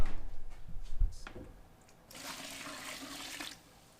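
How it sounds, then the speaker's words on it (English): Water poured little by little into a dry mix for a mini forge build: some clattering handling first, then a steady rushing pour lasting over a second before it stops, with no talk. "we're going to start pouring the water in little by little, mixing it up"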